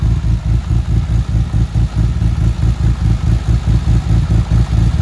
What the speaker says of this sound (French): le ralenti à chaud est impeccable.